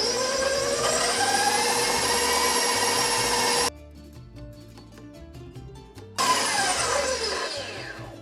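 Electric mixer beating creamed butter, sugar, egg and vanilla into cookie dough: a loud, close whirring drone, cut off for a few seconds of quieter background, then starting again at full speed.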